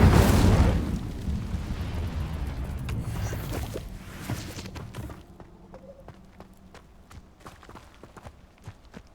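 An Incendio fire spell cast in Hogwarts Legacy bursts with a loud roaring whoosh that decays over a few seconds, followed by scattered quiet footsteps and small clicks.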